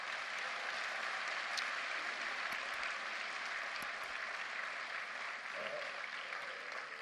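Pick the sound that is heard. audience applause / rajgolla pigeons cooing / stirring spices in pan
audience applause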